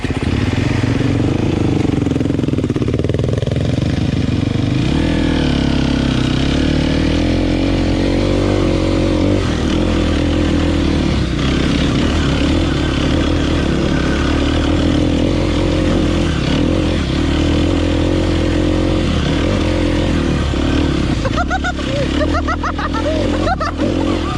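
A motorcycle out for a track-day ride starts up, idles roughly and then revs away, with loud, steady engine drone close by for over twenty seconds and occasional speech mixed in.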